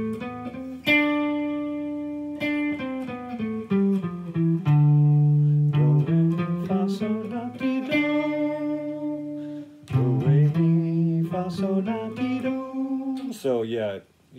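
An electric guitar plays a modal scale starting on D, with notes bent and sustained in a lead style, moving up and down through the mode in a continuous run, close and alone without talk.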